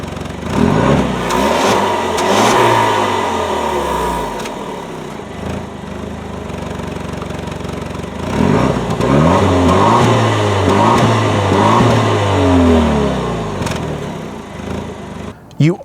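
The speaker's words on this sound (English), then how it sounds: "switchable active sports exhaust, which is a button right here in the center console that changes how the exhaust sounds" A 2021 Jaguar F-Type First Edition with a switchable active sports exhaust, revving in a few strong surges that climb and fall back, loud and close with a rough exhaust note and quieter idle stretches between.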